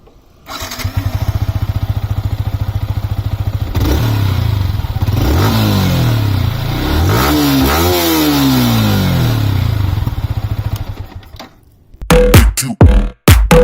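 A Yamaha R15 V3 motorcycle engine cranks and catches, idles with a rough throb, then revs up and down several times before cutting off to near silence.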